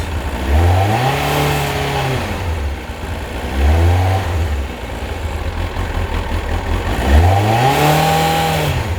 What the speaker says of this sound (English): if I increase the revs